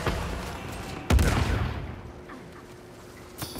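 Gunfire in the video game Uncharted 4: A Thief's End, with a burst of sharp shots and a loud close bang partway through, then a fading tail and one more brief crack.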